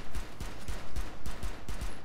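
Gunfire in Rainbow Six Siege, several loud close bursts of shots in a quick irregular rhythm, each with a short low thump, with no talking.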